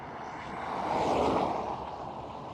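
A Boeing 747 jumbo jet takes off at Schiphol, a distant engine roar that rises to a peak around the middle and then fades as it passes, with no talking.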